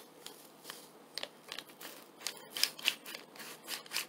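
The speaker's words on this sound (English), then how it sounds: "I've got 1 I can't open, so I'm going to grab the scissors for it." Scissors snip open a stubborn Kore Natural Raspberry Energy Fizz supplement packet, giving a few quiet, crisp cuts mixed with soft plastic crinkling, close to the microphone with no talking.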